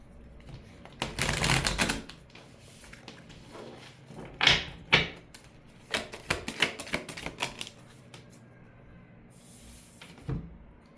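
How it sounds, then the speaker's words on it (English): A deck of tarot cards is shuffled by hand, giving quiet bursts of rapid riffling clatter and soft slaps in uneven spurts, close by with no talking. "let me shuffle really quick."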